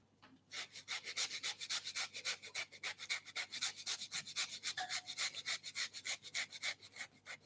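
A frozen ingredient is grated by hand, making a steady run of close, even rasping strokes, about three per second, that continue without pause.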